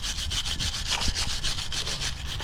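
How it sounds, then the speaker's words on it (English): A wire brush scrubs the mounting surface of a front brake caliper on a 2011-2024 Infiniti QX80 in quick, even back-and-forth strokes, a close and steady raspy rhythm with no talking. "Now I'm gonna get a wire brush and clean this up"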